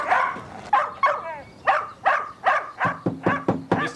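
A dog barks repeatedly at a house around the back, a run of about ten sharp, fairly close barks coming faster toward the end, with a brief whimpery yip in between.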